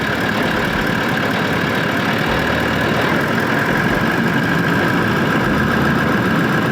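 Vehicle engine running steadily with a broken-down rig in the remote Outback as the clutch is let out and throttle added, a loud, continuous close-up drone with rough low rumble and no talk.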